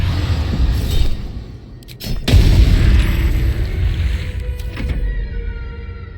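A loud burst from an acid bomb in a video game, a sudden boom breaking over a dense rumbling battle bed, followed by sustained churning noise and a second softer hit near the end.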